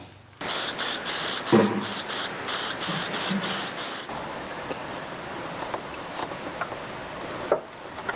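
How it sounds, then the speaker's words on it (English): Aerosol rattle can spraying paint onto tow hooks during a 2JZ engine install, several bursts of steady hiss across the clip with short pauses between, close and fairly loud, no talk. "I basically just quickly rattle can them so that they don't rust"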